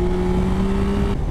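A 2024 Yamaha Tracer 9 GT+ motorcycle accelerates hard to overtake, its engine note a loud, close, steady drone under wind rush, then easing briefly near the end.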